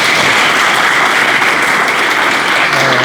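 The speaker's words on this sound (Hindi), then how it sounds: "लिए थोड़ा तालियां बजाइए आप लोग" Loud, sustained applause from a gathered audience at an event celebrating a teacher recruitment success in Bihar, a dense, even roar of clapping throughout.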